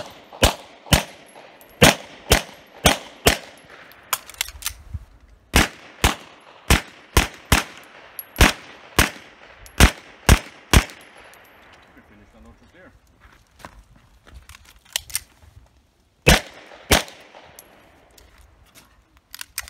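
Handgun shots at an IDPA practical pistol match, fired from a Langdon 92G Elite LTT: loud, sharp cracks in quick strings of several shots, separated by short pauses, with a few scattered later shots.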